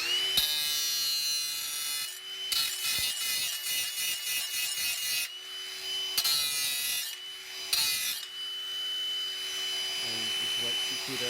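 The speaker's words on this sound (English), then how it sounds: "I've got this little cutoff wheel that I use on the handheld. And I come on the back side and I get the little burrs out" A small handheld cutoff wheel grinds burrs off the back side of a Ferris IS700 mower blade, with harsh, close grinding bursts that start and stop between stretches of someone talking.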